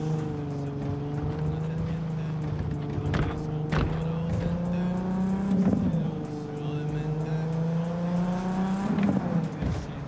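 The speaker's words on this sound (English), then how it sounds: "I like the sound of this car." A steady, droning car engine in the video game Cyberpunk 2077 hums throughout, pitch rising and falling slightly as it revs, with a few sharp clicks and thumps.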